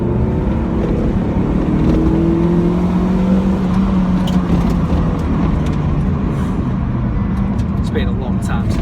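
A Mazda MX-5 project car engine droning steadily while driving, loud and close with rising and falling pitch as it revs, and someone talking over it.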